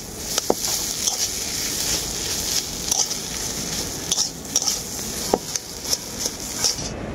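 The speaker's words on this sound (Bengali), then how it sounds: "এই ভাজা মশলাটাকেও আমি খুব ভালো করে মিক্স করে নেব একসাথে।" Fried ground spice being stirred into a pointed gourd (potol) chop filling in a pan, a soft continuous sizzle broken by irregular scrapes and taps of a utensil against the pan, with no voices.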